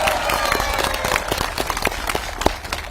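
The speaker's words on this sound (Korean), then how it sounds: "힘찬 박수 부탁드립니다." An audience at a Democratic Party political rally in Gunsan, North Jeolla, Korea, applauds loudly, with steady dense clapping and scattered cheers from a large crowd filling the space.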